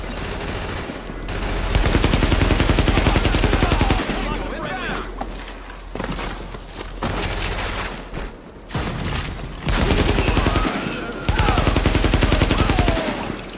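Rapid automatic gunfire from a firefight in the video game The Division rattles in long, loud bursts, broken by short pauses and a few lulls, with dense crackling shots layered close together.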